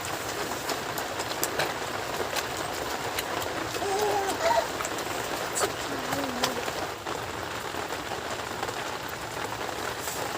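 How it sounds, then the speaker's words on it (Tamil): Heavy rain pours steadily outdoors at night in a rural village, a broad continuous wash of drops heard at moderate level with a brief louder swell midway. "மழை எங்கள் ஊரில் வெளுத்து வாங்கிட்டு இருக்கு"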